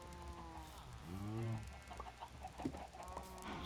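Chickens clucking in the video game Minecraft, a few close, faint clucks and short squawks in a quiet scene.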